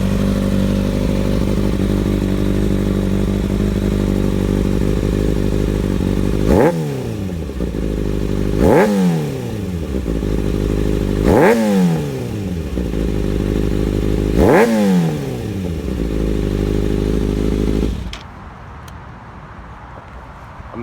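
A 2009 Kawasaki Ninja ZX6R fitted with an M4 GP slip-on exhaust idles loudly nearby, then is revved four times in sharp blips that rise and fall back, before the engine cuts off near the end.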